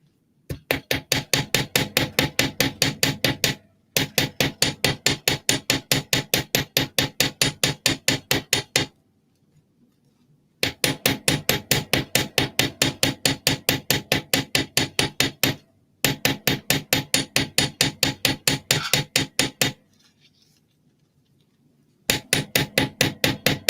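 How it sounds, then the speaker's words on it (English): Rapid, evenly spaced metallic hammer taps on metal ornament earrings ring out in long bursts, separated by short pauses of silence, close and loud. "see if a little hammering can bring it back to life"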